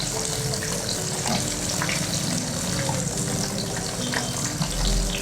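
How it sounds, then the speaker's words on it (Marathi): Paneer popcorn fries in hot oil with a steady, dense sizzle and bubbling that holds evenly throughout, close and loud with no voices. "छान झालं तळून."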